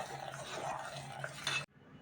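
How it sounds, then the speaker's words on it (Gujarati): A spoon stirs a thickened almond milk shake with custard powder in a pot, a steady scraping swirl over a faint low hum before it suddenly stops. "હવે એને થોડીક વાર છે ને હલાવીશ"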